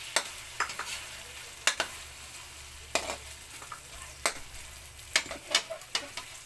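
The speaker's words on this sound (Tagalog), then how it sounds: "ilagay na po ang ating sardinas" Sardines stirred into sautéed tomatoes in a pan, a faint steady sizzle of frying broken by irregular clicks and scrapes of a utensil against the pan, no talk.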